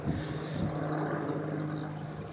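Helicopter arriving in Churu, a continuous loud droning rotor and engine roar with a steady low hum, heard nearby and unbroken.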